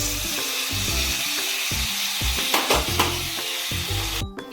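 Chicken gravy with ginger garlic paste and tomato stirred and frying in a pan, a continuous loud sizzle broken by rhythmic scraping strokes of the spoon, close up with no voices.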